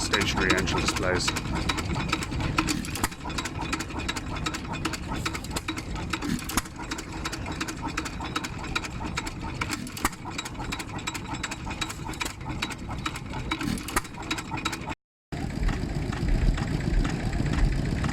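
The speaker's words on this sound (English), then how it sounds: "I absolutely love these stationary engine displays." Stationary engines at a steam threshing festival run in a continuous, busy mechanical chatter with rapid rhythmic ticking and a low throb, close and steady throughout, with people talking over it.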